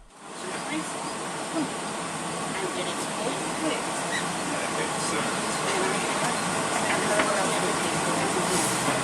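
A Portland Streetcar on the NS Line heard from on board or close by, a steady hissing rumble of wheels and motor that swells slightly and holds evenly for several seconds, with no other prominent sounds.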